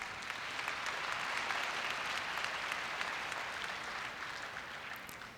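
Sustained clapping from a big audience at Korea University's 2016 entrance ceremony, a continuous crackling wall of hands that stays loud for several seconds before tapering off gently near the end.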